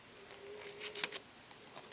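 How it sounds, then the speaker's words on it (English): Scissors snip through cardstock to cut out a stamped shape for a Valentine postcard, giving a few quick close crisp cuts clustered around one second and then quiet. "And I'm just going to cut this out."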